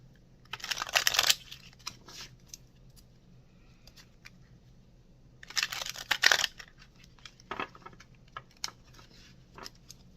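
Tarot cards being shuffled by hand in two bursts of crisp riffling and flicking, close and fairly quiet, separated by softer handling sounds and near-silence.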